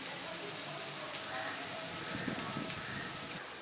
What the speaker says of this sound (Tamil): இந்த இறாலோட சேர்ந்து இந்த வெங்காயம் கருவேப்பிலை எல்லாம் பொரிஞ்சு வரணும்.